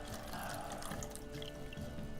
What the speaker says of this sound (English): I'm just gonna pour this drink I have next to it into this bottle.